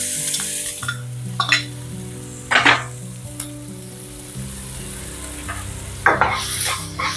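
Finely chopped medium onion hits hot oil with turmeric in a pan for Marathi-style matar karanji filling. A loud, close sizzle plays throughout, with sharp bursts of stirring and spatter, and no one speaks.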